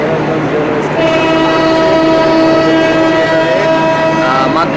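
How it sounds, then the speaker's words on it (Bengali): Rupsha Express train leaving Mobarakganj railway station, a loud sustained horn blast over the heavy rumble of the engine and wagons, close by and continuous. "এখন ট্রেনটি প্ল্যাটফর্ম ত্যাগ করবে"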